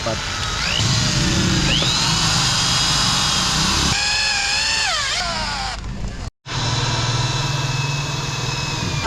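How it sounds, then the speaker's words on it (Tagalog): A power drill bores out exhaust bolts on a Yamaha R3 motorcycle, whining loudly with rising and falling pitch, briefly cutting out, then running again steadily. "barina na lang yung 4 na bolt na yan"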